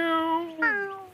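A person's voice imitates a cat's meow in two drawn-out, whiny mewing calls, the second rising sharply partway through, close and fairly clear with no other talk.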